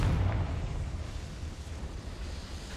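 A Confringo spell cast in the Hogwarts Legacy video game lands as a loud fiery blast, then a dense roaring rumble that lingers steadily for a few seconds.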